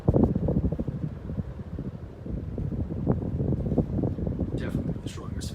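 A Hunter Great Room ceiling fan running on its high setting gives a steady, rushing wind-like roar with buffeting against the microphone that lasts throughout.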